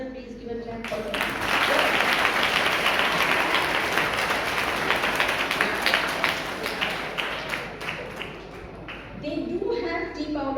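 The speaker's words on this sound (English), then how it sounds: "please give a clap for them" A roomful of people claps warmly and steadily for those who answered a quiz question correctly during a spiritual talk, the applause swelling then fading, with a speaker's voice returning as it dies down.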